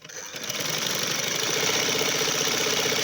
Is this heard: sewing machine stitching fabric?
yes